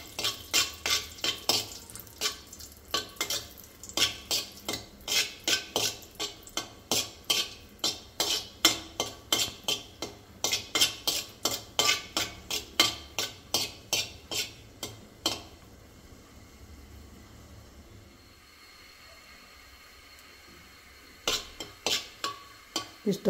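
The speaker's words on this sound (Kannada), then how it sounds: "ಸ್ವಲ್ಪ ಬ್ರೌನ್ ಆಗೋವರೆಗೆ ಹುರಿಯೋಣ." Food frying in a pan while being stirred until lightly browned, with a brisk run of rhythmic metal utensil scrapes and taps over a soft sizzle, a brief lull, then more stirring.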